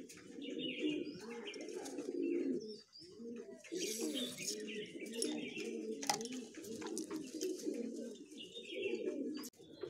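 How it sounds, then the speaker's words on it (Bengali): Baby pigeons cooing and chirping while being hand-fed formula, soft repeated coos close by with higher tweets and a small flutter in between, no talk over them. "আমি কিভাবে আমার পায়রার বাচ্চাদের হ্যান্ড ফিডিং করাই"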